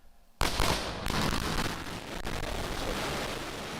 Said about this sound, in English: that sonic boom was great for us